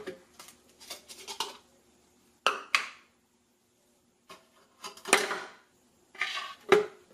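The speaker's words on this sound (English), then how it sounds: "The ice block goes in here." Hard plastic and ice clatter in short bursts as an ice block is loaded into a Hawaiian Shaved Ice S900A electric shaved ice machine, close and crisp clunks with quiet gaps between them.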